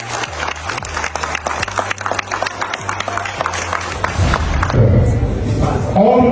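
Audience clapping during a hip hop history lecture at Fourah Bay College, with loud, busy claps and cheering close by, mixed with voices and some low hum, then a rising crowd noise near the end.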